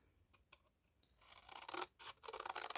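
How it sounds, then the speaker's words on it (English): Scissors snip through tissue box cardstock, trimming off the side bits in a quick series of close, crisp cuts that grow louder after a few faint taps and rustles. "I'm just trimming off those side bits"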